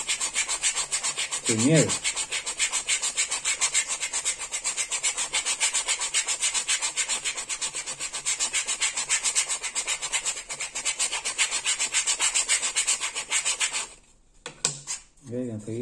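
Continuous rapid rhythmic scraping of 100-grit sandpaper rubbing back and forth over a leather strop, close and loud, with a short voice near the start and a pause near the end.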